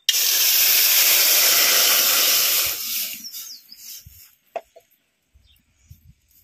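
Water poured into a hot kadai for boiling mango hisses loudly and evenly for almost three seconds, then fades to quiet with a few faint clicks and small taps.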